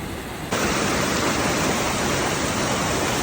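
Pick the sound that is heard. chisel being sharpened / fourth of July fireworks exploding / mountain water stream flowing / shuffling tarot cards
mountain water stream flowing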